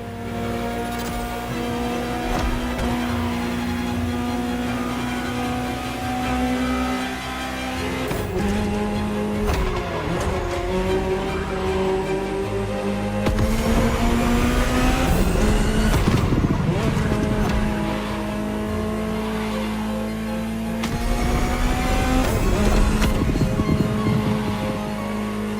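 A Ferrari supercar in the racing video game The Crew Motorfest revs hard, with a loud, steady engine tone that shifts pitch through gear changes and runs throughout.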